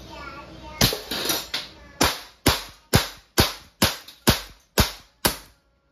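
An Umarex Walther CP88 .177 air pistol fires double action, about ten sharp, loud snapping shots in a quick, fairly even rhythm. Each crack is close and distinct, with faint background noise between shots.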